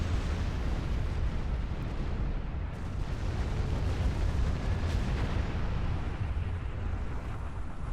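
Starship weapons firing in the space combat game Star Trek Online against a dreadnought, a dense continuous barrage of booming blasts and rumbling explosions that hold steady and loud throughout.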